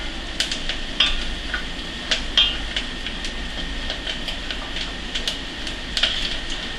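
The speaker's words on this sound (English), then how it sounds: "now we've fried off the tarragon, parsley and garlic in the butter" Tarragon, parsley and garlic fry in butter with a steady, soft sizzle, broken by light clicks and taps from stirring throughout.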